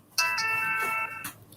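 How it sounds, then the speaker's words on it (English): A phone notification chime rings out once, loud and close, as a sustained multi-tone ding lasting about a second, with a softer follow-up blip after it, heard on its own without talk. "My notifications just keep going off."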